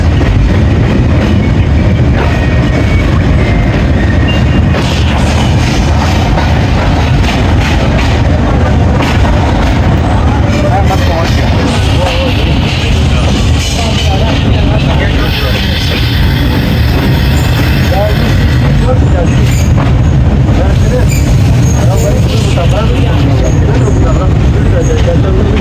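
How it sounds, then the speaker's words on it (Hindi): The 104 Down Subak Kharam railcar pulls into Gujrat railway station in Pakistan with a loud, constant rumble and roar from start to finish, and voices talk over the noise. "गुजरात रेलवे स्टेशन पे अप्रोच बना रही है 104 डाउन सुबह खराम रेल कार"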